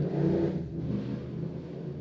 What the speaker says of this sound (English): it was like a really loud motorcycle